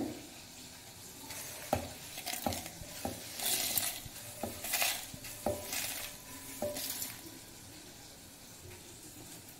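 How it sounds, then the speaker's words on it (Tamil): Soft stirring and scraping of garam masala spices dry-roasting in a pan with faint sizzling, a few sharp clicks of a utensil against the metal, quiet and close. "இந்த அளவு வறுபட்டால் போதும்."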